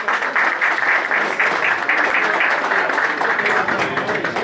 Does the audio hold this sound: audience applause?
yes